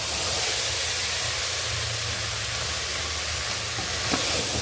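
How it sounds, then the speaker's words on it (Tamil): Soya chunk biryani ingredients sautéing in a pan, a loud, continuous hissing sizzle held evenly from start to finish, with one faint tap of a utensil near the end and no voices. "இப்போ இதையும் நம்ம வந்து நல்லா சேர்த்து வதக்கிக்கலாம்."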